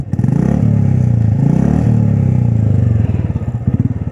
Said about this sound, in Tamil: just note that exhaust sound guys